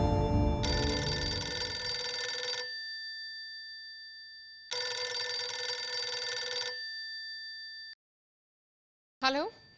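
A telephone rings on an outgoing call, two long bursts of bright trilling bell separated by a silent gap, loud and close, followed by a short bleep at the end.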